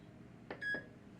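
An air fryer gives two short electronic beeps as its start button is pressed, the second one a clear sustained tone, quiet and close in a still kitchen.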